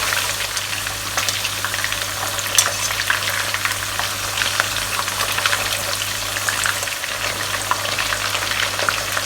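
Thai pandan chicken, pieces of chicken wrapped in pandan leaves, deep frying in hot oil: a constant, dense bubbling sizzle, close and fairly loud, holding steady with no talking.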